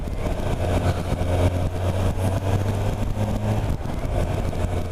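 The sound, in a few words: Kawasaki motorcycle engine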